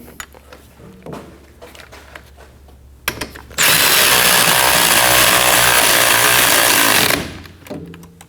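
A power tool runs loud and continuous for about four seconds, snugging brake shoe bolts on a 2011-2016 Kia Optima rear parking brake, with quieter shop handling before and after the burst.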